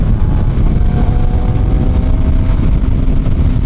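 Suzuki GSX-R750 motorcycle engine cruising in sixth gear at about 85 mph and 6,000 RPM, a steady loud drone with wind roar throughout.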